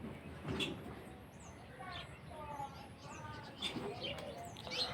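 Soft, low pigeon cooing repeated a few times in the background, faint against a quiet outdoor hiss with small chirps.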